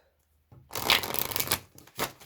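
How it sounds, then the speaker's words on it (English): A quick riffle of tarot cards, a dense rapid fluttering burst lasting about a second, followed by a short second flutter, close and fairly loud. "Oh, that was an awful shuffle."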